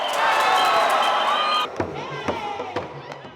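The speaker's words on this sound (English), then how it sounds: "the audience offers a huge round of applause to the athletes for their incredible hard work" Crowd applause and cheering at a taekwondo competition, a dense loud roar for the first half that abruptly drops to scattered sharp claps and thuds.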